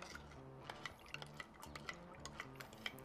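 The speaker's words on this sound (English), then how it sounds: "I just prefer to use a wooden spoon and just mix all this together" A wooden spoon stirs thick brown sugar BBQ sauce in a pot, soft scraping taps recurring in an uneven rhythm, quiet and close.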